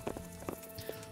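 Horse hooves clip-clop in the medieval role-playing game Kingdom Come: Deliverance, a few uneven close steps in quick succession over a steady game ambience.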